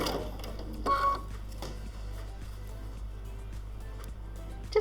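A sewing machine stitching elastic onto a quilt strip, a quiet run of rapid mechanical ticking and clatter with a few brief pauses and no talking.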